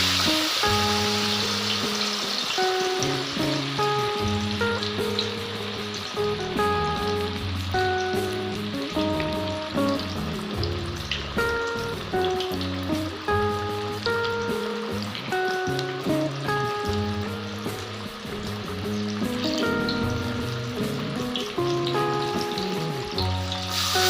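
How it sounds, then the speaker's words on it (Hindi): Marinated fish fries in very hot oil with a loud, dense, continuous sizzle and crackle, close up and steady throughout, while tonal music plays underneath. "अब हम इसे फ्राई करेंगे।"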